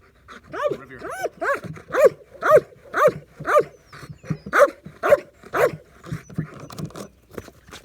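A trained dog barks on command in a steady, evenly spaced series of about a dozen sharp, close barks, with light panting between them.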